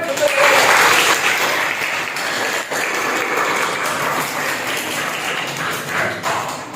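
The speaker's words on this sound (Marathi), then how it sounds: "जर तुम्हाला आवडलं असेल तर एक वेळा जोरदार टाळ्या वाजवा." An audience at an Ayurveda college lecture claps loudly and continuously, a dense burst of applause that slowly thins toward the end.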